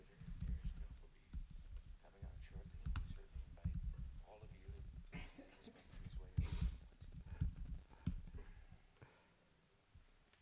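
Computer keyboard typing in a live-stream room, a run of quick irregular clicks scattered through the clip, heard close alongside low background murmur and voices.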